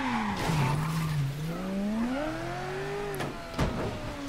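A car in Mafia 3 skids with a long, wavering tire squeal that slides up and down in pitch for several seconds, ending in a couple of sharp knocks near the end.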